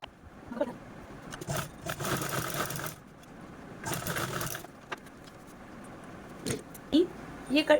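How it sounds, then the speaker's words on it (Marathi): A sewing machine stitches a handbag part in two fairly quiet whirring runs of about a second each, separated by lighter handling clicks and brief pauses. "तर सर्वात अगोदर मी हा पार्ट स्टिच करून घेते"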